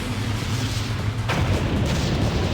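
A missile barrage launches in the game Blue Archive: a dense roar of rumbling blasts swells abruptly partway through over an already noisy, booming backdrop.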